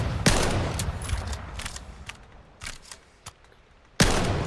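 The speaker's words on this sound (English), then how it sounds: "It's just a pump shotgun" Two loud, sharp blasts from an STF-12 pump-action shotgun in the VR shooter Vail VR, one at the start and one near the end, with fainter mechanical clicks and handling noises between them.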